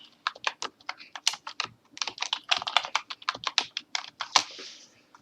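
Rapid, uneven keystrokes of a password being typed on a computer keyboard, close and clear, in quick bursts with short pauses over about five seconds.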